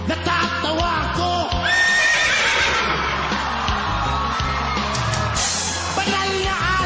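A performer on a televised Filipino talent show vocally imitates a horse, producing repeated loud neighs and whinnies with fluttering pitch, with crowd noise and yelling beneath and no speech.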